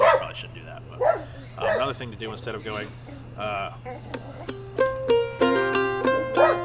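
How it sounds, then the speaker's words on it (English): A dog barks and yips at intervals, fairly close, behind someone talking during a clawhammer ukulele lesson, with plucked ukulele notes near the end. "sorry, that's my dog."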